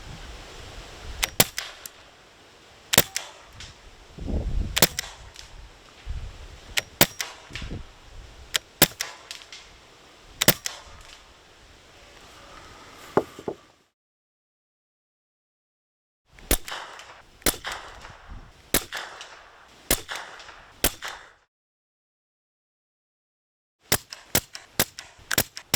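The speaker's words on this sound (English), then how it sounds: "And let's fire some shots." Suppressed air rifle firing a series of shots, each a sharp, fairly quiet crack, spaced a second or two apart in three bursts separated by silent pauses.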